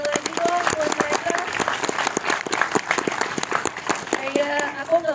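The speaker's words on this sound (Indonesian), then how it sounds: "Boleh tepuk tangan sekali lagi dong buat mereka." An audience at a film Q&A session at the JAFF festival claps for the cast in a steady, dense round of applause, with a voice speaking over it throughout.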